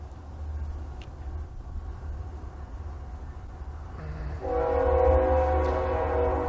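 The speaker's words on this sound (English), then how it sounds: "every time I record my homily, the train goes by" Passing train with its horn sounding, a low rumble building throughout before a loud sustained horn blast joins near the end.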